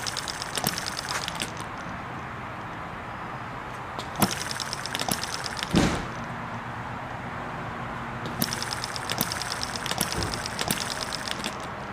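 Carbureted engine idling on a humid day, a faint, steady low rumble with a few sharp clicks and knocks scattered through it.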